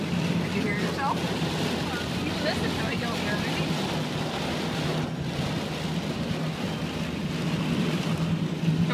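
Heavy rain pours steadily on a wet day out, a dense hissing wash mixed with gusty wind noise on the microphone, loud and constant throughout.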